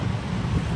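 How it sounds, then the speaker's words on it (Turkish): Street traffic in Ho Chi Minh City, Vietnam, a low rumbling wash of passing vehicles and engine noise with some wind, steady and unbroken. "Arkadaşlar trafik var."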